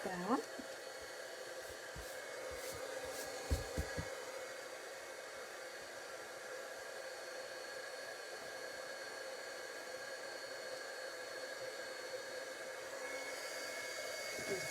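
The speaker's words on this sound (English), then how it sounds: "let's heat up the heat tool. And then we're going to heat set that." A heat tool blows a steady, hissing airflow while heat-setting embossing powder on a handmade card, a constant dryer-like whoosh with a few soft bumps near the start.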